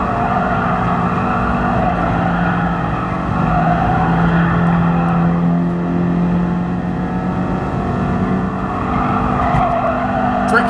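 A race car in Gran Turismo Sport is driven flat out. The engine holds a loud, steady high drone with shifting pitch and faint tire scrub, continuous for about ten seconds without any voices.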